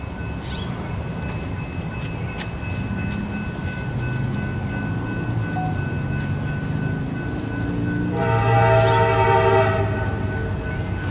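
A freight train locomotive in the Bay area sounds its horn, a loud sustained chord entering near the end over a steady low rail rumble and background noise.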